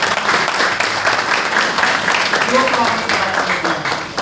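A church congregation claps together after a sermon, a broad wash of applause running throughout while a voice speaks over it.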